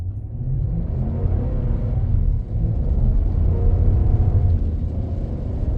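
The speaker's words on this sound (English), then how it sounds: "we'll do a quick acceleration test in 4-wheel drive." A truck in 4-wheel drive on all-terrain tires accelerates across snow, its engine giving a steady, close, low rumble that holds strong throughout with a slight swell toward the end.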